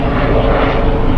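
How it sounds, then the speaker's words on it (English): A helicopter flies overhead, a loud, steady rotor and engine roar filling the whole moment without a break. "helicopter right up there, if you can see it."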